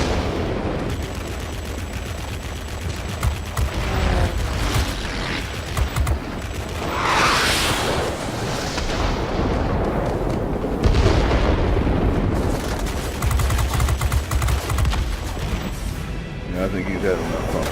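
Aircraft machine guns firing in World of Warplanes dogfights, bursts of rattling gunfire mixed with explosive booms and engine roar, loud and continuous, with someone talking over the action.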